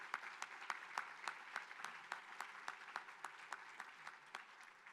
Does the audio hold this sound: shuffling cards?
no